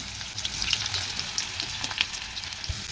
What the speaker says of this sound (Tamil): ஒரு சின்ன துண்டு வெங்காயத்தை இப்படி வெட்டி வச்சுருக்கேன் அதை அதில் சேர்த்துக்குவோம் நல்லா வதக்கி விட்டுருவோம்